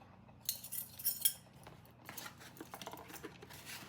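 Whisking all-purpose flour and baking soda in a bowl: light metal clinks and scraping taps in quick irregular bursts, close up, with no talking.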